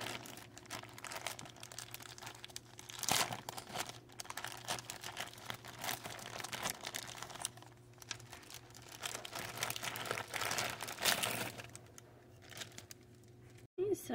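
A small plastic baggie of beads crinkles and rustles close by in irregular bursts, continuing throughout over a faint steady hum.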